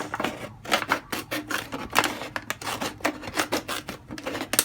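Scissors crunching through a thin plastic bottle, a series of rapid rasping snips and crackles at close range, with no talking.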